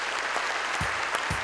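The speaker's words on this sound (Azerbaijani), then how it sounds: "gənc aktyorlarımızı xahiş edirəm, alqışlayasınız." Scattered applause from a comedy show audience for young actors, a dense crackle of hand claps running steadily throughout, with a couple of brief low thumps cutting in.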